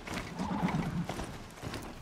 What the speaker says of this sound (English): Hey, it's our horse.